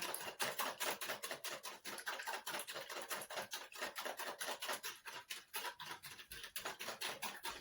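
Eggs whisked for an omelette, a fast, steady run of light rhythmic clicking taps from the whisk against the bowl, faint and close, with no one speaking.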